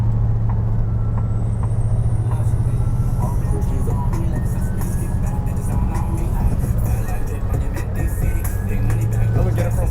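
A custom 1952 Chevy cruising, its engine giving a loud, steady low rumble with road noise throughout, heard from inside the car at close range.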